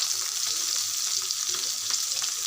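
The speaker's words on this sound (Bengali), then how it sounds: "মাছগুলো আমি কড়াইতে দিয়ে দিয়েছি।" Spiced chapila fish frying in a kadai over low heat, a soft continuous sizzle and crackle of oil, steady and close with no talk.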